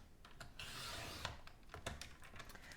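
A blade drawn along a cutting groove through a piece of material, a soft close rasping and rubbing over a few seconds, quiet and with no talk.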